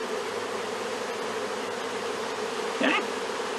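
Honey bees buzz steadily from a swarm being installed into a hive, a dense continuous drone with a brief louder buzz near the end.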